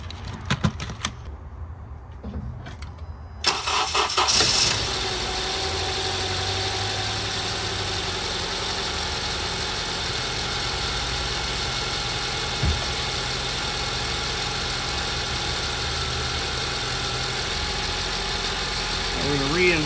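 A Honda CR-V engine from the 2003 to 2016 generation cranks and catches after a short quiet pause, then settles into a steady, loud idle that runs on without break, heard close up right after a spark plug change.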